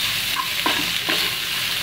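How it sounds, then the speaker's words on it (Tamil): Onion and capsicum sautéing in a pan, a steady sizzle with several stirring scrapes at an uneven pace. "வெங்காயமும் குடமிளகாவும் வதங்கிடுச்சு."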